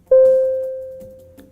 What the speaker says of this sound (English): The signal alert system sounds like this.